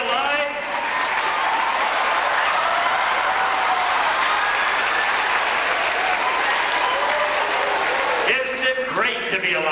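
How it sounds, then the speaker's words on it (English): Audience at a hypnotist stage show breaks into sustained, loud applause with whoops and cheers, a full room clapping steadily before voices rise near the end. "You'll feel fantastic, especially because of all the applause you hear"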